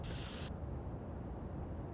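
A spray can in the video game Schedule 1 gives one short, sharp hiss of spray paint, then quiet low background noise.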